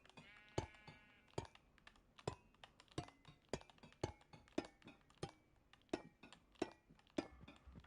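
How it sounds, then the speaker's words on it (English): Sheep in Minecraft bleat amid a steady run of sharp keyboard clicks, the game calls soft beneath the tapping rhythm. "lovely sheep coming into our enclosure"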